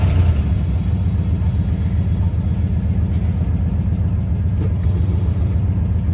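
An old truck engine idles steadily after being cranked, a continuous low rumble with a fast even pulse that holds at one level throughout, close and loud, with no voices.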